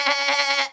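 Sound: voice imitating a sheep bleating

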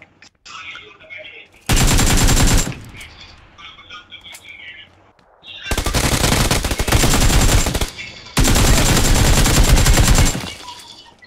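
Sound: gunfire in the video game PUBG PC Lite

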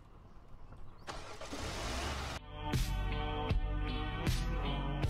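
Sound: car engine starting in Roblox video game A Dusty Trip

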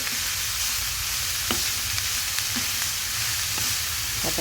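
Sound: papaya (karmoos) upperi stir-frying in a pan

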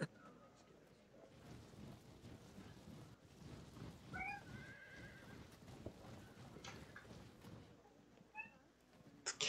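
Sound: cat meowing

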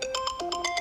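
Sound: phone ringtone from multifunction tester with SIM card

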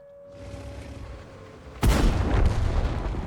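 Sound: tank cannon shot hitting VZ-111, from a video game

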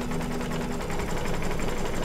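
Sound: embroidery sewing machine stitching zombie applique background

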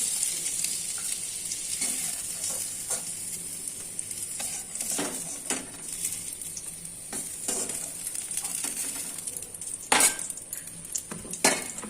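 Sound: pointed gourd (potol) frying in oil

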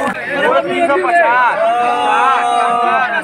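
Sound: crowd gathered at a vegetable market

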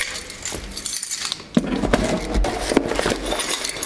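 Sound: glass bottle breaking, keys jangling

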